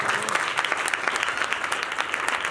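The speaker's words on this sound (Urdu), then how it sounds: "تالیوں کی آواز نہیں آ رہی." A church congregation claps enthusiastically, a dense, steady patter of many hands filling the room at close range, continuous and lively throughout.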